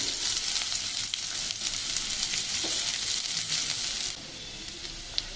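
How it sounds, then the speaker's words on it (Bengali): Onions frying in oil in a pan give off a dense, even hiss of sizzling, close up and continuous, before dropping noticeably quieter near the end. "তো পেঁয়াজটা আমার হালকা ফ্রাই হয়ে গেছে, মিডিয়াম ফ্রাই অ্যাকচুয়ালি।"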